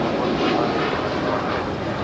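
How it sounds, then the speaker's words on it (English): A broad, steady roar from a departing American Airlines Boeing 787-8 Dreamliner jet at Los Angeles International Airport, loud and sustained through the short stretch without fading, with no voices. "This is American Airlines Flight 27 Heavy departing to Tokyo Haneda on the 787-8 Dreamliner."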